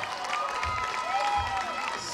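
An audience applauds steadily, with crowd noise and some cheering, at a moderate, even level for the whole stretch.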